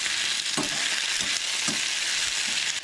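Ginger, chilli and onion sautéing in a pan for chicken curry, a loud continuous sizzle broken by about four regular scraping stirs, close up with no voices.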